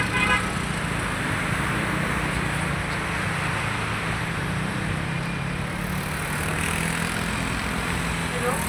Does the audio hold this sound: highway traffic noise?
yes